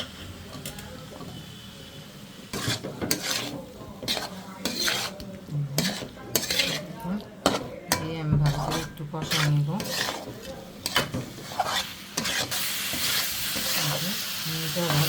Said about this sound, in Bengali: মশলাটা আমি খুব ভালো করে কষাই নিচ্ছি